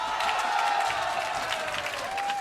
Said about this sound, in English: What are we cheering?